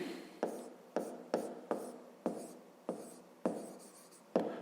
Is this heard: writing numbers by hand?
yes